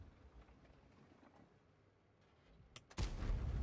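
A tank cannon fires in World of Tanks from a TNH T vz51 heavy tank, one sudden heavy boom near the end that rolls into a loud rumbling blast after a stretch of quiet engine-like background.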